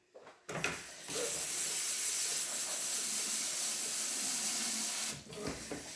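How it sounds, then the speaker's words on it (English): Rice rinsed under a running kitchen tap, a continuous rushing hiss of water that starts after a few handling knocks, holds steady for several seconds, then cuts off, with no one speaking. "So what I'm going to do is just go ahead and rinse this really quick."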